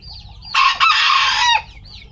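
Farm rooster crows once, loud and close, a bright strained call lasting about a second against quiet background with faint clucking around it.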